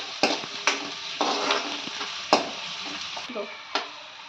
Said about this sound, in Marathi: कांदा छान तेलात परतून घ्यायचे.